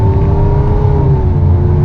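A Lamborghini Aventador engine roars in a loud, steady, sustained rev close by, with a deep rumbling drone and a faint rising whine running throughout.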